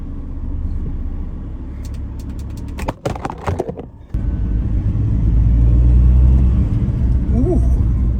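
A Ford Transit Sport van with a performance upgrade drives on a road, its engine a steady low rumble throughout. A brief drop midway brings rattling cabin noise, then the loud drone returns and builds.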